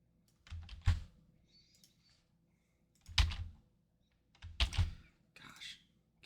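Short bursts of computer keyboard typing come in three quiet clusters of quick clicks with soft thunks between, close and otherwise in a silent room.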